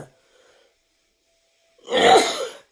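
A single short, sharp sneeze bursts out close by after a near-silent pause, loud for under a second and then cut off, with no talk around it.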